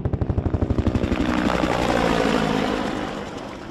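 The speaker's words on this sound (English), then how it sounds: "the sound of a helicopter cut the air," A helicopter's rotor chops rhythmically, swelling into a loud, continuous roar as it passes overhead during a firefighter's funeral in Miles City, then easing off slightly.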